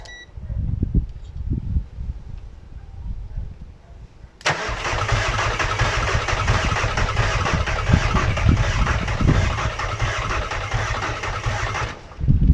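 A van engine cranks for several seconds without firing, rising to a loud, continuous mechanical churn after a few quieter thumps and some faint background sounds. The churn stops abruptly near the end.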